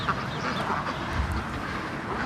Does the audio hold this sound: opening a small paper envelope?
no